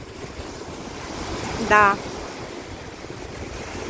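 Sea waves wash steadily onto a shore under strong wind buffeting the microphone, with a brief voice breaking in partway through.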